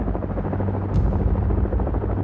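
Stealth Black Hawk helicopters taking off at night, a loud, continuous rotor thump and turbine roar close by, steady throughout with one brief sharp crack near the middle.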